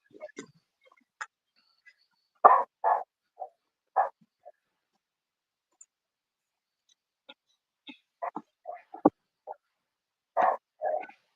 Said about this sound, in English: The older she gets, she just gets out there and barks.